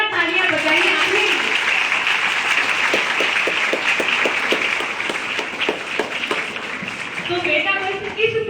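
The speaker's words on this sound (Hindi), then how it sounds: "तो एक बार जोरदार तालियां बजाइए आपने।" Students at a seminar on the Bhagavad Gita break into loud, sustained applause that fills the hall; a voice speaks at the start and again at the end, with a few sharper individual claps standing out midway.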